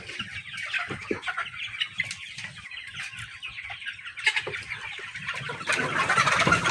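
Several Sonali, Fayoumi and local chickens cluck and chatter together at close range on a poultry farm, a busy, continuous flock sound with no one speaking.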